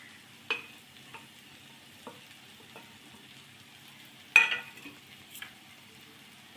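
Pirandai (adamant creeper) being stirred into softened tomato in a hot pan: a quiet, low sizzle broken by a few sharp spatula scrapes, the loudest near the middle-end, with no voices.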